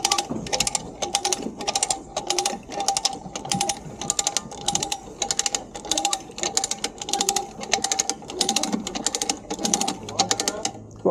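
A come-along ratchet is cranked in a steady series of sharp clicking strokes, each a quick burst of pawl clicks, repeating rhythmically for about eleven seconds, close and fairly loud, during hurricane salvage work.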